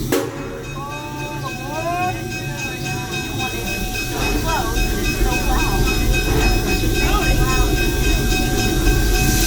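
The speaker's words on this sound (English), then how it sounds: "Welcome aboard the Omaha Zoo Railroad." Omaha Zoo Railroad train ride at the Henry Doorly Zoo: a steady, loud rolling rumble with high metallic wheel squeals and clatter, growing slightly louder as it goes.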